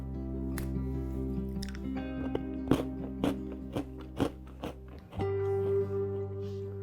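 Crisp crunches and bites from homemade shortbread bunny cookies come in a close, irregular series over a soft tonal background that swells near the end.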